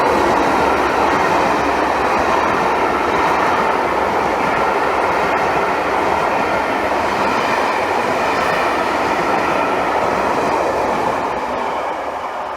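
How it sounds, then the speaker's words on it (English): Class 67 locomotive 67021 hauls a Victoria to Bath service, a loud, steady rumble and roar of the passing train that holds constant throughout and eases slightly at the end, with no talk. "67021 to be doing a service from Victoria to Bath"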